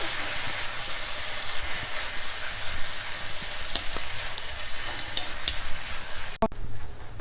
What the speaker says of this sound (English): Just keep tossing them about in the oil.